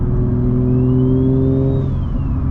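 Turbocharged Infiniti G35 with a VQ engine revving loudly and close, a dense steady drone whose pitch climbs and holds before easing off, with a faint whistle riding above it.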